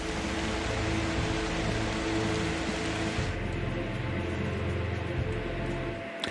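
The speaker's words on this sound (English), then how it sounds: "I should have turned off the rain during the break." Steady rain sound effect played continuously as background on a live stream, an even hiss of falling rain holding at constant loudness for several seconds before cutting off at the end.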